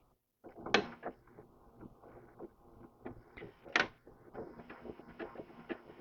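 A sewing machine slowly stitching a leather bag tag, quiet mechanical clicking and ratcheting in an uneven run after a short silence, close and soft.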